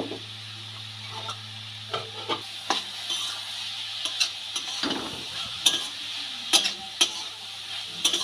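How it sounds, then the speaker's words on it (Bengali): Vegetables being stirred in a pan after a spoonful of ground cumin is added, with repeated scraping and clattering strokes of a spoon over a steady low sizzle, close and moderately loud, no talking. "খুব ভালো করে মেশানো হয়ে গেল।"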